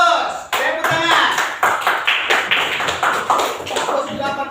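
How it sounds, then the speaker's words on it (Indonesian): Classroom group clapping during an Islamic jurisprudence lesson, a cluster of sharp hand claps repeating for several seconds, close and fairly loud, with some overlapping talk. "Tepuk tangan."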